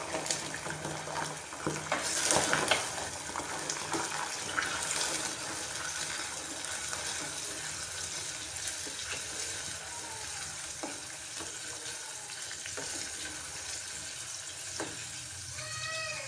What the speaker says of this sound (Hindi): तो प्याज हमारी अच्छी सी फ्राई हो गई है। अब मैं इसमें जिंजर गार्लिक पेस्ट डालूंगी।